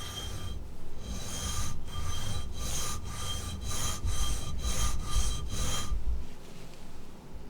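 A reed knife is stroked back and forth over a sharpening stone with wedge angle guides, about ten rhythmic close gritty scraping passes, then a pause, no voices.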